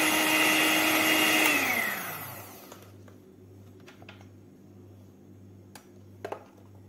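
An electric mixer whirs loudly while blending eggs, sugar and butter for a Christmas fruit and rum cake, then winds down after about two seconds to a softer steady hum with a few faint clinks.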